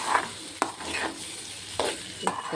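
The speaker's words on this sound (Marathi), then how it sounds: "छान असं परतवून घ्यायचं आहे." Boiled potato slices stir-fried in oil in a pan, with a steady sizzle and four sharp scraping strokes of a spatula at irregular intervals, close and fairly loud, no talking.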